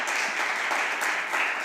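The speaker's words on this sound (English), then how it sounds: "Deserves a round of applause for that" A town council meeting audience gives a round of applause, a steady, moderately soft patter of many hands clapping without pause.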